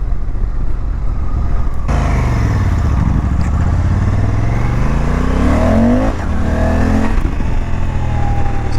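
A 2024 Honda Africa Twin motorcycle rides and accelerates, its engine droning loud and close with rising pitch sweeps through gear changes under heavy wind rush.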